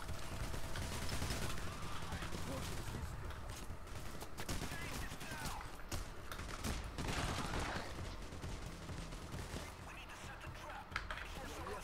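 A big weapon fires in the video game Payday: The Heist. Faint, rattling bursts of gunfire sit low in the mix under steady background noise while people talk.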